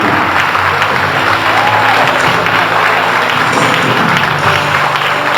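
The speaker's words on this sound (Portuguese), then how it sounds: "Pode aplaudir isso aí." Large audience at a church congress in Paraná applauding, a dense, steady wash of clapping with crowd noise throughout, loud and continuous without breaks.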